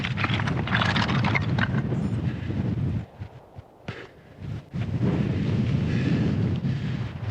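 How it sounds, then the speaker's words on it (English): Strong wind on a Lake District mountain, Skiddaw and Ullock Pike, during a mountain bike ride. It roars and buffets loudly against the microphone, drops into a brief lull midway, then gusts back in hard. "It's getting windy."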